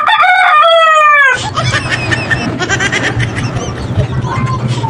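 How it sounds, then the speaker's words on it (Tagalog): A rooster crows once, loud and close, a bright wavering call lasting just over a second, followed by outdoor clatter and faint background voices. "Isang tilaok pa"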